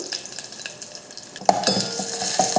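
Mustard seeds, curry leaves and dried red chilies tempering in hot oil for a Tamil kara kulambu, a quiet crackle and stirring that jumps into a louder, busier sizzle partway through.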